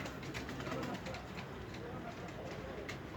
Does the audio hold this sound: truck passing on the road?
no